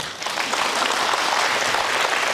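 Audience at a lecture bursts into steady, dense applause, many hands clapping together for the whole moment.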